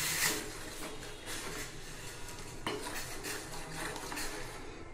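Lemon tea with loose tea leaves being stirred in a metal pot, a close, steady scraping and clinking of a spoon against the pot's sides with a few sharper knocks, no voices.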